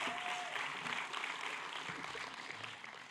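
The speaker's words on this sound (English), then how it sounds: "So please give yourselves a round of applause" An audience at a college television awards ceremony applauds, a dense, steady wash of many hands clapping that fills the whole stretch at even loudness without a break.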